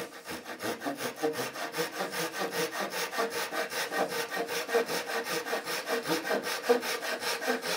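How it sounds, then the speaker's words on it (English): A Japanese hand saw cutting wood for simple furniture, with even, rhythmic push-pull strokes that repeat steadily at close range, rasping and loud, with no talking. "Fine edge of the saw again."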